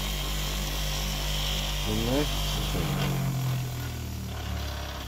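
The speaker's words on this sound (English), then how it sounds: "through the wire brush just to get the surface rust off" A wire brush spins against a rusty Mopar wiper spindle, a steady mechanical whir with rising and falling tones as the part is pressed in, fairly loud and close.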